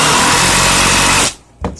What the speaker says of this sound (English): I'm toenailing these deck screws in